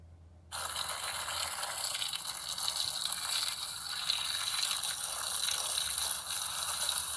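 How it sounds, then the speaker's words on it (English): A garden hose suddenly starts gushing water into a backyard slip 'n' slide, a steady, hissing rush that stays fairly even and moderately quiet from the moment it switches on. "Let's get the hose to add in the nice cool water."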